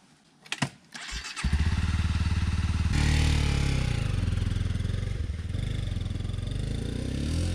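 A dual sport motorcycle engine gives a brief sputter, then catches and roars into loud, close, throbbing running that stays strong and steady to the end.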